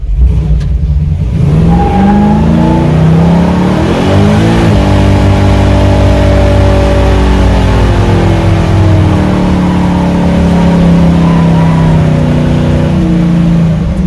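A 1965 Chevy muscle truck's engine revs hard during a burnout, a loud, close roar that climbs and holds in pitch through sustained high-rpm pulls, with no voices, running continuously for the whole stretch.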